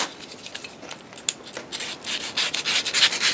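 A utility knife blade slicing through a paper sack of lime, heard as a close, dry scraping rasp. It builds to louder ripping strokes toward the end, with no voices.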